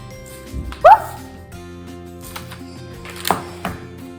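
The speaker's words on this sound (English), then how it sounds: "Sorry, that's my dog." A pet dog gives a single short, sharp bark in a home kitchen while chocolate-covered pretzels are being made, then faint clinks and kitchen noises follow.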